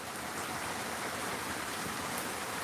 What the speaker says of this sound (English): the fact that it's raining right now